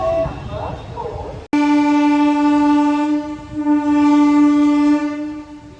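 A MEMU train at Gudur junction sounds a long, loud, steady horn blast as it departs, after a brief burst of rumbling noise and a sharp break, with no voices.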